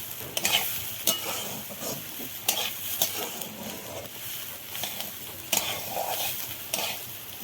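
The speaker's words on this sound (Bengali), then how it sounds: "ভালো করে চালটা দিয়ে ভাজা ভাজা করে" Rice being fried in a pot for khichuri, a close sizzle with frequent scraping stirs and spoon knocks against the pot, busy and continuous, no voices.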